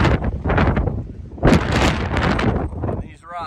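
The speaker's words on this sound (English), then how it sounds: "It is so cold and windy up here." Cold wind gusts across a wet mountain rock face on the Appalachian Trail in Maine, buffeting the microphone in loud, roaring waves with a brief lull, then a short voice at the end.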